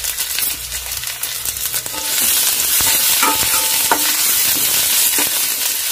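Onion, green chili and garlic sizzle loudly in a pan while a spatula scrapes and stirs, the frying hiss swelling after a few seconds and staying dense to the end.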